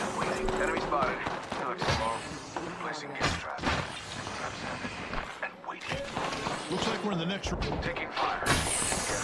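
Rapid gunfire bursts, impacts and crashes from a shootout in the battle-royale game Apex Legends, loud and dense, with a character's voice lines cutting in over the shooting.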